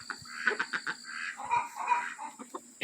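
Backyard hens and young pullets cluck in a quick series of short, uneven calls, close and fairly quiet, with no talking.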